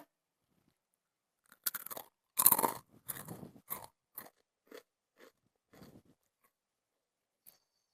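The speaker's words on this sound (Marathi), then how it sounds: "आवाज कळला असेल तुम्हाला मस्त अगदी कुरकुरीत म्हणजे कुरकुरीत झालेली आहे" Crisp crunching bites of chakli, a crunchy fried snack: a few loud sharp crunches followed by softer chewing crackles that taper off into quiet.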